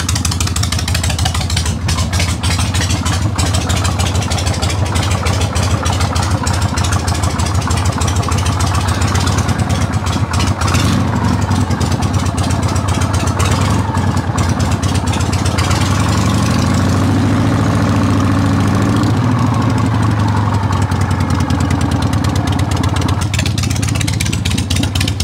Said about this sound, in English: So we're firing all of these up, and we're just letting them idle and run down.